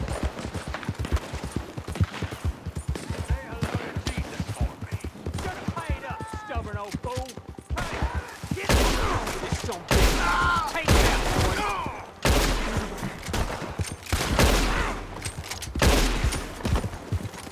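A shootout in Red Dead Redemption 2 with rapid, loud bursts of gunfire filling the second half, preceded by quieter clattering game sounds and someone speaking.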